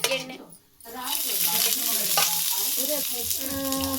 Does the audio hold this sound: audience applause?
no